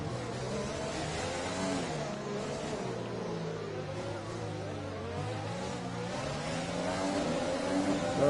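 Formula 1 cars in the F1 2020 video game at the Monaco circuit pass by, with engine tones rising and falling as they go past, then building to a louder roar at the end.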